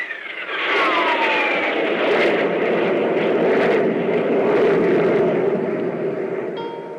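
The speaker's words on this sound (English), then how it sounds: "Increase the jet drive on all jets." Spaceship jet drive engines roar in a radio drama effect: a loud, steady rushing rumble that swells up and holds, with a faint whine sliding down at the start.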